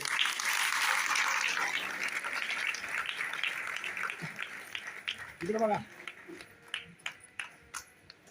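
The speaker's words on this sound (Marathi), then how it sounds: "जोरदार टाळ्या वाजवायच्या आहेत" Crowd applause at a community felicitation ceremony fills the first few seconds, a dense wash of clapping that thins out, followed by scattered claps and a brief voice.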